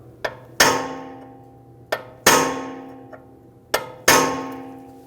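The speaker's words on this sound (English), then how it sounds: "I'm going to take the hammer and tap it, and hopefully that breaks it free" Three pairs of sharp metallic hammer strikes on a punch against a Mercedes-Benz GLC300 front brake rotor, each a light tap followed by a heavier ringing clang, repeat at a steady pace up close.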